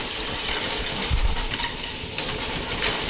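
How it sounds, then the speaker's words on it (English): Clams sautéing in a pan for fettuccine, a loud, continuous close sizzle with stirring scrapes and a brief clatter partway through, no voices. "Little sauteing happening there."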